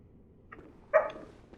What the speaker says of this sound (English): The dog's back!